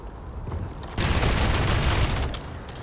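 In Starfield, a shotgun fires with a loud, abrupt burst of gunfire that breaks in sharply after a quieter stretch, then sustains as dense, rattling blasts at close range.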